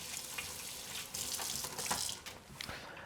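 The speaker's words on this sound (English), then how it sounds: "Let me just rinse my hand off real quick." Water runs from a kitchen tap as a hand is rinsed, a soft steady splashing stream that shifts in intensity as the hand moves through it, with no talking.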